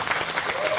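Audience at a mosque youth leadership event claps in a short, thick burst of applause, fairly loud and steady with no pause.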